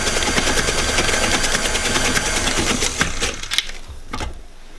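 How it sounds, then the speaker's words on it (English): An electric mixer beats banana chocolate loaf batter after an egg is added, giving a steady, loud motor whir with rattling beaters that winds down and stops near the end. "Stop your mixer"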